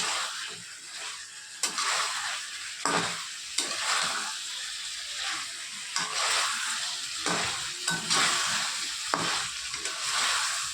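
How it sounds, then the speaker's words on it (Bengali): Fried chicken pieces for Bengali chilli chicken being stir-fried in a pan, a steady loud sizzle broken by repeated scraping stirs at a roughly regular rhythm, with no talking. "তারপরে দেখো ভেজে রাখা চিকেনের বড়াগুলো দিয়ে দিলাম, চিকেনের সঙ্গে একসঙ্গে ভালো করে কষিয়ে নেব।"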